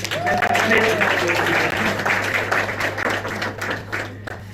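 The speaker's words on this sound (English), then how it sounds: "Let's clap for your parents." Wedding guests applaud the parents, a broad burst of clapping that rises quickly and slowly thins out over several seconds, with a steady low hum and some voices mixed in.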